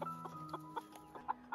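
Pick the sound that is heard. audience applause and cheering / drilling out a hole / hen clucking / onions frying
hen clucking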